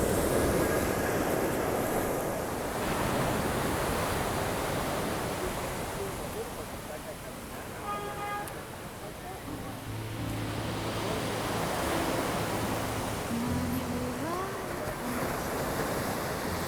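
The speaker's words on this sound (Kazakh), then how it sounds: "теңізге де келдік." Sea waves washing onto a beach shore, a steady broad wash of surf with wind buffeting the microphone, and faint voices murmuring in the background.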